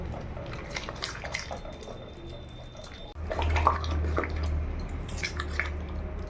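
Water poured into a potato chilla batter and stirred in a bowl, a steady wet swishing and squelching that grows louder and thicker partway through, close and with no talking.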